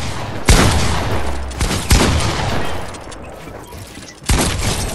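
Pump shotgun blasts in Fortnite, three loud, sharp booms spaced unevenly over a few seconds against a noisy game background.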